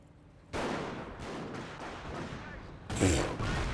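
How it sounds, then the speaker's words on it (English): Sniper scope rifle shots in Company of Heroes, a few sharp cracks with a loud report near the end, mixed with battle noise and someone talking over it. "There goes that scope rifle"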